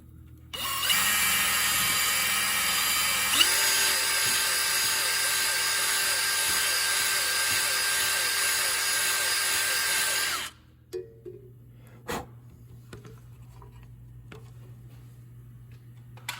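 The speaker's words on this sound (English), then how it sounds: "I can put it up in the drill. Get a little bit of speed out of it." A power drill spins a wire brush inside the wheel speed sensor bore of a 2014 GMC Acadia, a loud steady whine for about ten seconds that rises once in pitch, then stops, followed by a few faint knocks.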